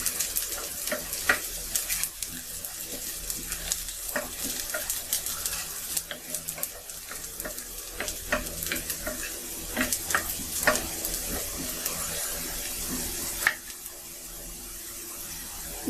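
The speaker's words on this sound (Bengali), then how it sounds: "আমি ভালো করে ভেজে নিচ্ছি।" Food fries steadily in a pan while onion and garlic are cooked for a taro-leaf and prawn dish, giving a continuous crackling sizzle with scattered sharp pops and the occasional scrape of stirring.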